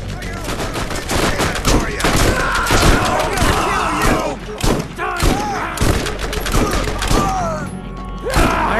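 Rapid bursts of shotgun fire and impacts crash through a frantic Borderlands firefight, dense and loud with thuds and blasts tumbling over one another for several seconds.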